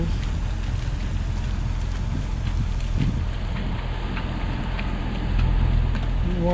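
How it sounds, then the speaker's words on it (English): Light rain falling at night outdoors in wet, waterlogged country, a steady soft hiss of drops with some wind buffeting the microphone, continuous and close. "It is actually still raining a little bit right now."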